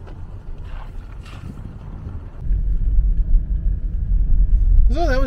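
A car rolls down the main street of Granum, a small Alberta town, its low engine and road rumble steady throughout and growing heavier partway in, with wind buffeting the microphone and a brief chirp near the end.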